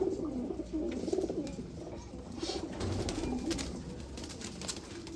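Several Chennai-breed pigeons cooing in soft, repeated low calls, close by, with some rustling and background noise throughout.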